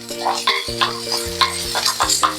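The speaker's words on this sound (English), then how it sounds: "I stir it a little bit and leave it to cook a little bit more" Onions, peppers and courgettes sizzle in a frying pan while a utensil stirs them in quick, repeated scraping strokes, close and loud with no talk.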